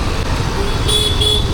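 On a Dapoli market road, the Mumbai–Dapoli morning bus passes among steady traffic rumble, sounding its horn in several short, shrill toots in the second half of the clip.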